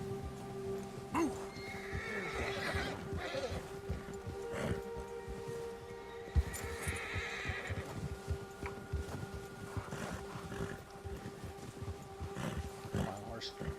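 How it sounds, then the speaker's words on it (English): In the video game Red Dead Redemption II, a horse whinnies and snorts while its hooves clop along a trail, with faint animal bleats in the background and voices talking intermittently throughout. "My horse."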